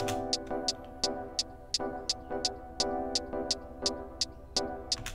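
A looped beat with sustained piano chords and crisp, evenly spaced hi-hat ticks repeating steadily throughout, no voices.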